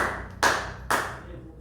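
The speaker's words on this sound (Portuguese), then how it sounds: "De repente as palmas que você bate para o Senhor agrada tanto o Senhor" Two crisp hand claps about half a second apart, close and fairly loud over a low background hum, during a church service.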